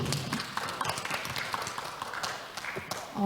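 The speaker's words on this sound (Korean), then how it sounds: "박수로 환영해 주시기 바랍니다." A small audience at an academic children's-literature conference in Korea claps steadily, fairly quiet and slightly distant, with the applause holding at an even level across the moment.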